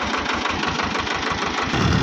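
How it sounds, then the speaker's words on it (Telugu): A heavy tractor engine idles with a steady, rhythmic chugging thump, close and loud, rising slightly in intensity toward the end. "హెవీ డ్రైవర్, మనోడిదే ట్రాక్టర్ ఇది"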